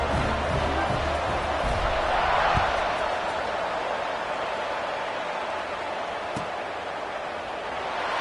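A stadium crowd roars in an American football video game as a Houston game is set to kick off, a dense, sustained wash of cheering with a brief swell early on, under faint commentary.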